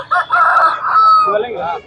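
A rooster crows loudly and close by at a rooster market, one sustained call that rises and then trails off, heard on its own.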